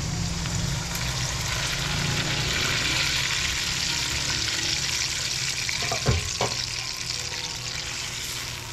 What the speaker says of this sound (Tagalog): Pwede natin lagyan ng wasik, tubig para lumambot na.